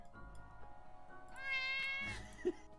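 A cat meows once, a drawn-out rising and falling cry, close and fairly clear over quiet background, with a short faint chirp right after.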